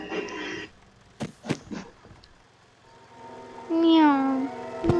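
A few sharp clicks and thumps, then a rising, wavering synthetic cat meow rings out in the video game Hello Neighbor, followed by a short tap.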